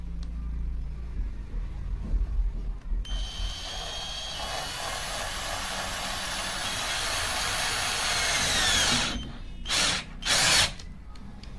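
Cordless screwdriver fitted with a socket bit runs steadily for several seconds as it drives a screw into wood, a continuous close whir with no talking, then stops and gives two brief final bursts.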